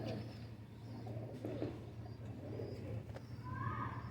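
Ferozpuri breed pigeon cooing softly at close range, low repeated coos over a steady background hum, with a few faint chirps toward the end.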